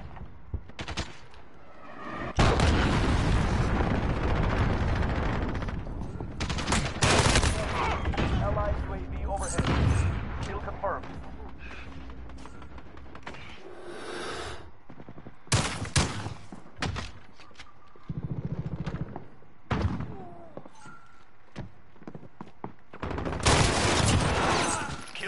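A cruise missile strike and gunfire in a shooter game: a long, heavy roar of explosion and rapid shots, then separate sharp blasts and shots later on, all loud and close.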